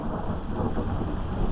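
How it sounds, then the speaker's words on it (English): Thunder rumbles low and continuous through a rainstorm, a deep rolling growl under the steady patter of falling rain, heard outdoors before a ride in the downpour, with no voices. "And that noise is thunder, because it is thunder and lightning out."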